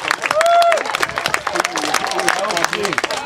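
Crowd at a Bydgoszcz Raiders versus Sabercats American football game in Poland cheering and applauding after a running back's gain, a dense burst of clapping and shouts under a commentator's voice.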